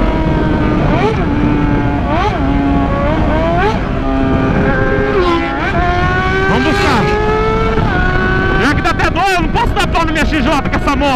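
A Yamaha Fazer 600 motorcycle accelerates hard through repeated gear changes, its engine whine climbing in pitch, dropping at each shift and climbing again, loud and close over about eleven seconds, ending in a rapid, sputtering burst at high revs.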